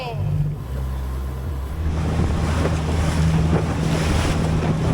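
A small boat powers out of a harbor after coming off its trailer. Its engine drones steadily beneath rushing waves and heavy wind buffeting the microphone, loud and continuous throughout.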